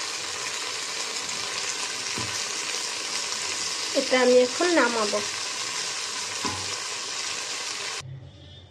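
Small mola fish fry in a rice cooker with a soft, even sizzle that continues under a brief spoken remark, then cuts off near the end.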